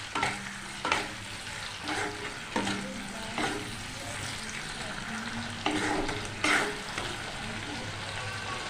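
Shrimp already fried in a pan with ginger-garlic paste stirred in, giving a steady sizzle with scraping clinks of a spatula recurring every second or so, close and moderately loud, with no one speaking.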